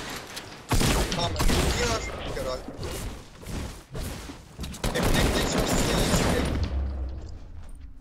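Bursts of rapid automatic gunfire in the Fortnite video game crackle loudly and repeatedly in close succession, with players talking over the shooting.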